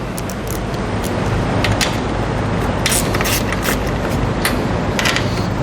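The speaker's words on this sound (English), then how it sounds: "On the inside, we're going to have 3 nuts. Use our 10mm socket." A 10mm socket on a ratchet removing three nuts from the inside of a truck door panel during a towing mirror install, a close, steady mechanical rasp with bright clicks and clatters scattered through it.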